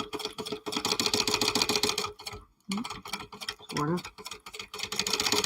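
A sewing machine runs a seam allowance in steady, rapid rhythmic stitching, pausing briefly and restarting, with a short spoken remark near the start.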